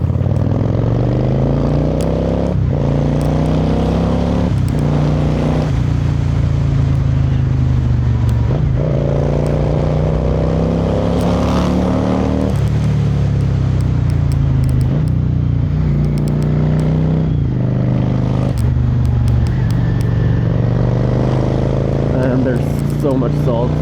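A 1997 Yamaha XVS650 DragStar bobber rumbles steadily through the streets of Lucerne on cold, salted roads, its low engine drone rising and falling with throttle changes under constant wind rush, with a rider talking over it.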